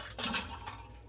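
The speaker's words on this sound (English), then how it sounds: "I dropped my blender." A blender part drops onto a hard kitchen surface with one sharp plasticky clatter, followed by a brief light rattle as it settles, close and fairly loud.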